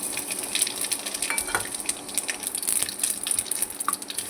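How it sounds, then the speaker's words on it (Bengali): Whole cumin, bay leaf, salt and turmeric hit hot mustard oil in a pan, giving a steady crackling sizzle with sharp pops and spits, close and continuous. "এখানে গোটা জিরে আর তেজপাতা আর নুন আর হলুদটা দিয়ে দিচ্ছি"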